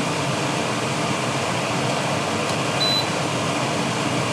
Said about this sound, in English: flipping the switch puts it into a high-speed mode